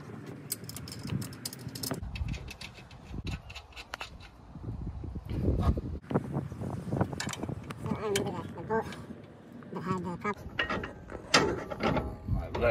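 Bolts being tightened with a ratcheting tool while installing a Monroe air-to-coil suspension kit on a Dodge Ram: repeated mechanical clicking and clanking bursts, close up, with someone talking at times.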